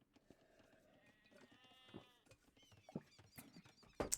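Sheep bleating in a real-time strategy game match, several short wavering bleats scattered over a few seconds against faint game ambience, with a sharp click at the end.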